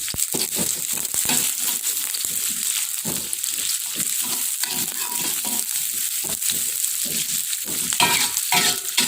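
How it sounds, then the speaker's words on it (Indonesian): Sliced onion frying in a pan is stirred steadily for about nine seconds, a constant close sizzle under repeated scraping and stirring strokes, with no talking. "kita masak bawang bombaynya kayu, kita aduk-aduk."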